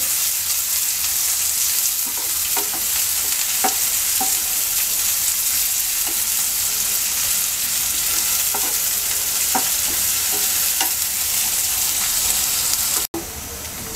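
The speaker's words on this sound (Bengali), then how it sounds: "চার টেবিল চামচ তেল দিয়ে দিচ্ছি এবার পেঁয়াজটাকে আমরা হালকা ভেজে নেব" Sliced onion fries lightly in four tablespoons of oil for a tomato and puti fish curry, giving a loud, steady sizzle with occasional stirring clicks before cutting off abruptly near the end.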